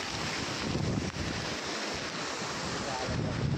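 Steady, dense rush of water roaring without pause from the Kanchan river waterfall heard up close, with a breezy, blustery edge and no voices.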